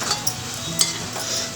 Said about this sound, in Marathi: आणि आता याच्यामध्ये मी थोडंसं हे तिळकूट टाकते तेलामध्ये परतण्यासाठी